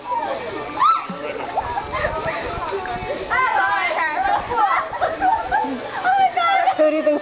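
Water splashes in an outdoor water fight among children, messy bursts of spray and sloshing under constant excited shouting and chatter, with a voice calling out nearby.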